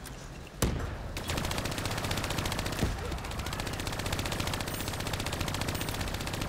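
Rapid, sustained turret gunfire from the video game Call of Duty Black Ops 3 rattles on without pause, loud and dense, with a few heavier blasts punctuating the steady stream of shots.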